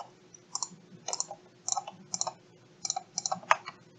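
A computer mouse clicks in quick pairs and small bunches, sharp close taps spaced about half a second apart over a faint steady hum, with no speech.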